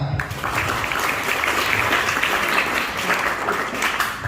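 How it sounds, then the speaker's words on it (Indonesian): An audience at a fire extinguisher training session claps in a dense, steady burst of applause, close and fairly loud, holding evenly throughout without letting up. "tepuk tangan"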